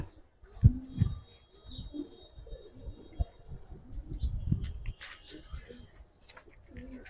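Giribaz and colored pigeons coo in low, soft bursts, with a few scattered rustles and faint background noises in between.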